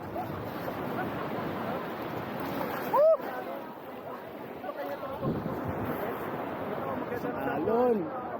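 Big surf breaks along a beach at General Nakar, steady and loud with wind buffeting the microphone, while excited voices shout over the crashing waves.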